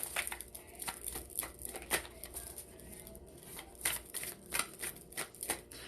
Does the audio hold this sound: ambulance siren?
no